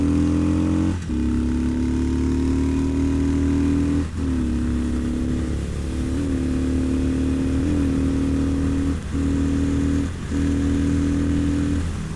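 Wind roar and engine drone heard from inside a helmet while riding a Harley Sportster with no wind protection, a loud continuous rumble with steady low engine tones that dip briefly at each gear change, with no talk.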